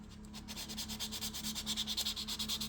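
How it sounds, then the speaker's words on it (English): Buffing block rubbed back and forth over a fingernail during a nail tip application, a soft rhythmic scratchy rasp heard close up, with quick even strokes and no talk. "Use a buffing block as well,"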